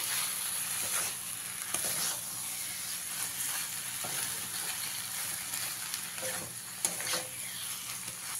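Taro stolons stirred into a frying mustard spice paste in a pan give a steady close sizzle, with occasional soft scrapes and clicks of a spoon mixing them in.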